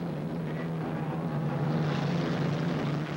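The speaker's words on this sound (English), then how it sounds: "Just keep the engine running, baby." A hydroplane racing boat's engine keeps running at a heat race in Evansville in 1985, a steady loud roaring drone with a low tonal hum that holds throughout, with no talking.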